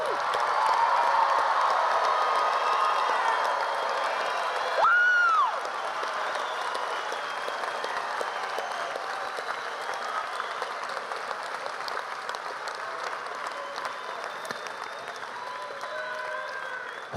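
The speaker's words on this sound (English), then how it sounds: "Hold your applause because it's almost official." A large high school graduation crowd applauds and cheers the class of 2025 in a sustained, dense wash of clapping with a few whoops, loud and continuous throughout.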